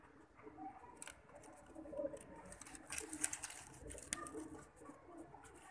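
Breeder pigeons cooing softly in a loft, low throaty coos scattered among faint fluttering and pattering, quiet and close with no talk.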